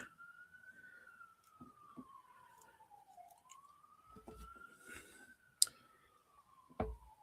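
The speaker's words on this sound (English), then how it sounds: "sorry about the sirens" Ambulance siren passing through a residential neighborhood, heard faint and distant as one steady wailing tone that slowly rises and falls, with scattered nearby clicks and thumps.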